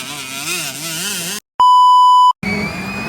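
65cc motocross motorcycles racing in a class final heat at Talakag, Bukidnon, heard as a loud, close engine whine with a rising and falling pitch, cut off by a sharp steady electronic beep before the engine noise returns.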